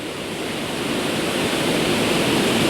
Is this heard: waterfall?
yes